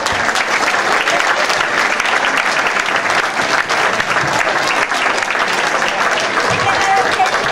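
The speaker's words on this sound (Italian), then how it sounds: "io direi che l'applauso più bello è da fare alla signora Barbara, sindaco di Reggiolo" Loud, sustained applause from an audience in Reggiolo honoring the town's mayor, a thick wash of many hands clapping with no break, close and full throughout.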